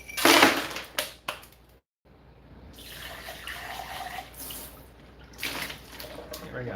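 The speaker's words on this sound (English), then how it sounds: "Rinse out the cup" Water runs from a tap into a smoothie cup being rinsed clear of leftover ice, a steady splashing flow after a few sharp clatters at the start, with a short silent gap before the stream.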